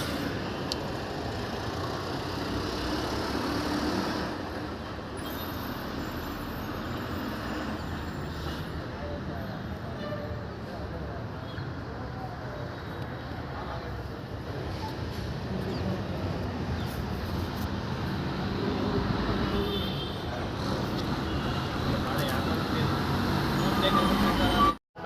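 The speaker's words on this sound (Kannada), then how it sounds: "ಸಿಟಿ ಬಸ್ ಸ್ಟ್ಯಾಂಡಿಗೆ ಬಂದೆ" Busy city bus stand with buses and road traffic rumbling steadily throughout, a broad continuous din with brief air-brake hisses and faint voices mixed in.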